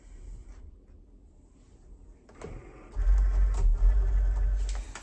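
A home cutting machine set to iron-on starts up, its motor whirring and clicking mechanically, rising from near silence to a steady, fairly loud mechanical run with faint rattles over the last couple of seconds.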